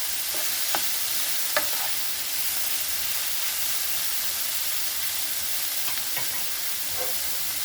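Sliced ridge gourd frying in a pan over high heat, giving a steady close sizzle and hiss throughout with a few brief stirring knocks and scrapes.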